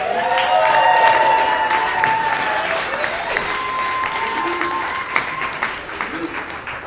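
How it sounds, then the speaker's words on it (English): Wedding guests break into a round of applause after the ceremony, steady dense clapping with some cheering that swells early and then holds, with voices mixed in. "let's give them a round of applause"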